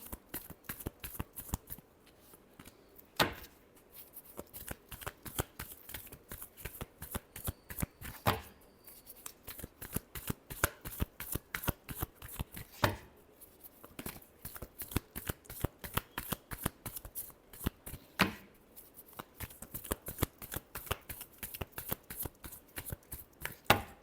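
Tarot cards are shuffled by hand in quick, crisp riffling bursts that repeat in a steady rhythm, close and clear, with short pauses between rounds.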